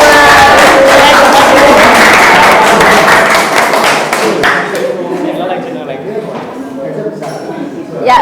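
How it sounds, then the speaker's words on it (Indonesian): Loud classroom applause, with students clapping together in a quick, dense patter that stays strong for several seconds, then thins and tapers off with a few voices murmuring underneath. "tepuk tangan untuk kita semua"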